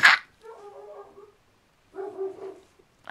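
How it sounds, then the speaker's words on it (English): A pet dog that has just been woken up gives a couple of short barks or yips nearby in a quiet room, with a sharp knock at the start and a pause between the two bursts. "I just woke my dog up"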